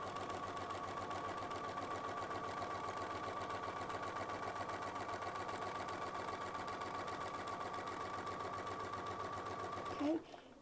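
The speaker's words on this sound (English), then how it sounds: "And then we can start sewing." Sewing machine running steadily while stitching a quilt medallion design, a continuous close mechanical whir that stops abruptly near the end, with no talk over it.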